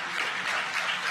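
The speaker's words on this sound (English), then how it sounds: "you can probably hear the cheering behind me" Sustained applause and cheering from a crowd after a SpaceX Falcon 9 first stage landing, an even, dense wash of clapping with no pauses.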